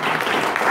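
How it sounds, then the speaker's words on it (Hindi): A church congregation claps together during a thanksgiving service, a brief dense burst of many hands, loud and steady without voices. "तालियां मार दे पाखरू के लिए।"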